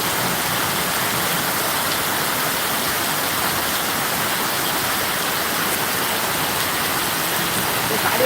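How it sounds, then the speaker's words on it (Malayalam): Steady, heavy rain pours without pause in Hyderabad, with a continuous rushing wash of water running fast along the road underneath and no voices. "സാധാരണ ഒരു മഴ പെയ്തപ്പോൾ റോഡിൽ കൂടെ പോകുന്ന വെള്ളത്തിൻ്റെ വേഗതയാണ് നിങ്ങൾ കാണുന്നത്"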